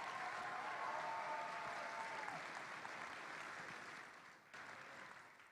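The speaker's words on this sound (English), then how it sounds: "Let's give everybody a round of applause that's made this possible" A large crowd applauds the volunteers and planning committee at an event, a sustained wash of clapping that tapers slightly toward the end, without any speech.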